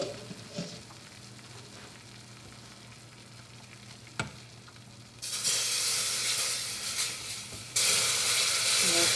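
Chicken broth poured into a hot pot for a German chicken pot pie sets off a sudden loud hiss and sizzle midway that roars on and off after a quieter stretch of faint kitchen noise, with a brief voice early on.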